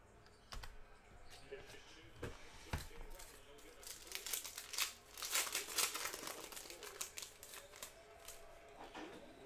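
A Panini Prizm NBA retail card pack is torn open, with crinkling foil and rustling card shuffles close by, at a low level.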